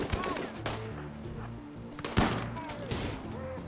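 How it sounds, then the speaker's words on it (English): Minigun fire in the video game RimWorld, with bursts of rapid gunfire and thuds among other battle sounds, moderately loud, under a faint voice. "Uh-oh, that's a minigun."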